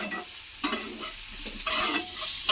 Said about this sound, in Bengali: হালকা জাস্ট একটু নাড়াচাড়া করে নেব।